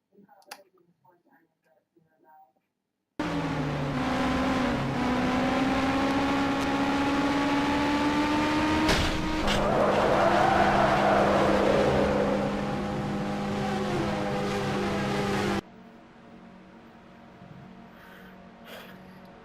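Simulated Indy cars racing at Phoenix in a video game, a steady loud engine drone with rising pitch that cuts in abruptly and holds for about twelve seconds, then drops to a quieter hum; faint clicks before it.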